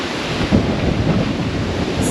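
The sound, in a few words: wind and heavy rain storm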